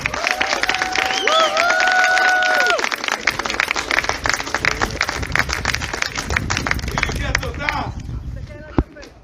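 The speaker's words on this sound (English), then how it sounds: "A big applause for the helpers, please." An audience at the Israeli FCI IGP protection dog championship applauds the helpers, dense clapping from the crowd under a voice on the loudspeaker at first, then thinning out toward the end.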